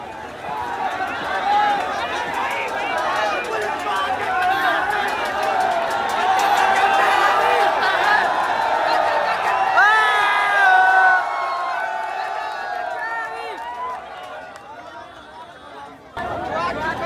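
A large protest crowd at Jantar Mantar in Delhi makes a dense, steady roar of chatter and overlapping voices, with occasional shouts rising above it, heard close and loud throughout.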